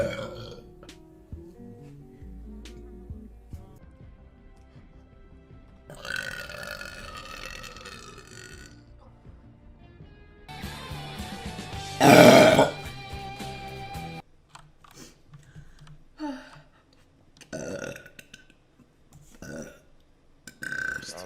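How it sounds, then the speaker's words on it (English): A girl burps loudly and repeatedly, several drawn-out belches scattered between stretches of her own talking and faint keyboard clicks. "Oh my god, so many burps."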